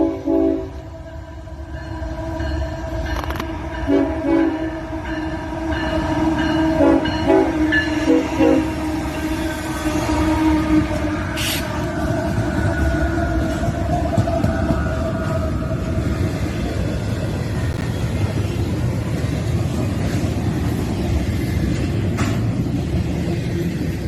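A freight train hauled by Union Pacific locomotives rolls past steadily and fairly close for the whole stretch, a continuous rumble and clatter of wagons with a short horn-like tone early on.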